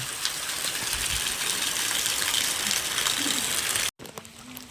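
Heavy rain pounds on a roof in a dense, steady roar that holds for about four seconds, then cuts out abruptly, leaving a quieter, sparser patter.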